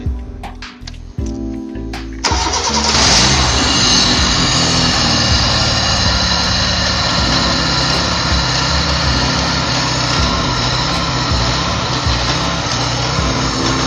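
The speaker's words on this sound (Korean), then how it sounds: "시동 걸겠습니다" A car engine cranks briefly during a fuel pressure and vacuum test, then catches and settles into a loud, steady idle that runs on unbroken.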